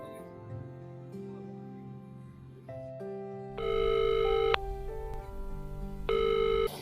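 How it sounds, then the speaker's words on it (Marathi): A telephone is used to call friends: sustained electronic tones step up and down in pitch in repeated bursts, like a dialed call ringing through, fairly close and clear. "मित्रांना फोन लावतो आणि त्यांना सांगतो की या म्हणून"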